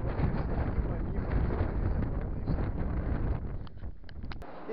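Strong wind buffets the microphone in a continuous heavy roar, gusting slightly and easing toward the end, with no voices, in northern Kazakhstan.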